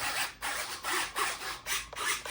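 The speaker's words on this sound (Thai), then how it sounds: "ได้ยินเสียงเซอร์วทำงานแล้วนะครับ" A servo on an FrSky RC receiver setup whirs in short, faint, repeated bursts as it moves back and forth, close up with nothing else around it.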